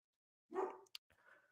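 A dog lets out one short, loud burst of barking close by, followed by a quick yelp and a softer whimpering tail, in an otherwise quiet indoor setting.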